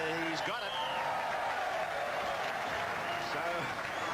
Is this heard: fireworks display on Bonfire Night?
no